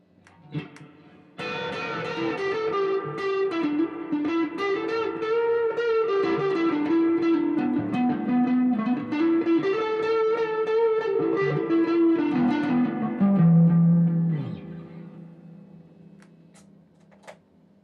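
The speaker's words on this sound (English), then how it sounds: "And then if you want to put distortion on it." A loud, sustained distorted electric guitar plays a repeating bluesy riff for several seconds before fading out.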